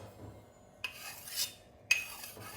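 A knife blade dragged across a rough, cheap hardware sharpening stone to dull it, producing two short, close abrasive scrapes separated by quiet.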